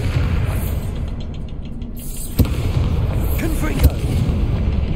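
Confringo explosion spell blasts in Hogwarts Legacy: two sharp booming impacts about a second and a half apart over a constant low rumble of combat ambience.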